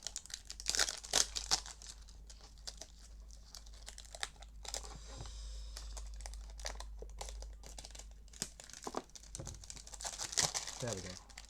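Plastic packaging around a cartridge crinkles and tears open up close in repeated bursts of crackling and ripping, with a brief pause in the middle.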